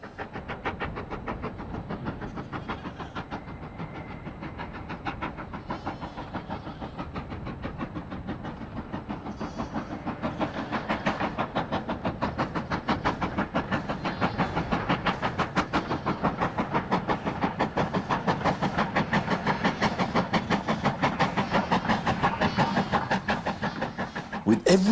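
A heritage train on the Weardale Railway in the North Pennines of England runs steadily along, a continuous rolling rumble with rhythmic clatter that grows slightly louder and nearer throughout.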